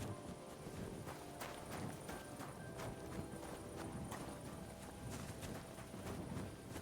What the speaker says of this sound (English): Look, a horse.